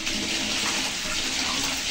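Water gushes steadily onto rice being rinsed in a vessel, a continuous loud splashing rush that lasts the whole time with no voices over it.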